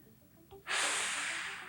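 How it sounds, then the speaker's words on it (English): A single deep inhale through the nostrils during a basic breathing exercise, a sudden loud airy rush that starts abruptly and holds steady for about a second, close and clear. "As you breathe in through your nostrils, the air is warmed"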